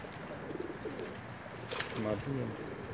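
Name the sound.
pigeons cooing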